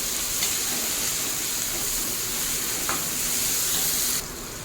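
Chopped onion frying over a high flame for a prawn curry gives a constant close, loud sizzle with occasional stirring scrapes, then the sound drops off abruptly near the end. No one speaks.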